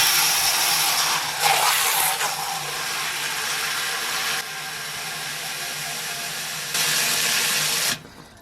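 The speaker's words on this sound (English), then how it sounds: "So we can turn the hose off, put some more water in." Water from a hose pours steadily into a BrewZilla brewing kettle for a rinse, a loud continuous rushing hiss that shifts in intensity a few times before cutting off near the end.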